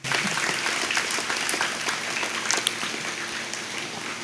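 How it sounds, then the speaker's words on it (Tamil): Congregation in a church clapping to congratulate 134 children at a confirmation ceremony, a broad, even patter of many hands with a few sharper claps standing out, continuing throughout. "இந்த 134 நம்முடைய பிள்ளைகளுக்கும் நமது வாழ்த்துதல்களையும் பாராட்டையும் வரவேற்பையும் கைத்தட்டி அவர்களுக்கு தெரிவிப்போம்"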